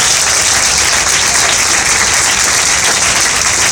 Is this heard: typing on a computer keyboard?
no